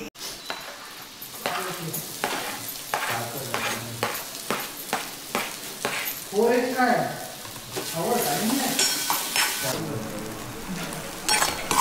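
Prawn mince stir-fries in a hot pan with a steady sizzle, while a spatula scrapes and clinks against the metal in repeated strokes, close and fairly loud throughout.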